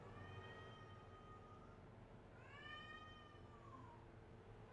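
A pet cat meows twice, each a drawn-out, rising-then-falling call, the second a little louder, over a steady background hum in a room where a Rocar Clash race at Rockingham is being played; no one speaks.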